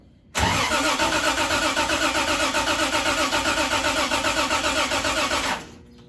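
A 1973 Triumph TR6 engine cranks and fires, then settles into a loud, steady, close-up run with a slight rhythmic pulse for about five seconds before cutting off.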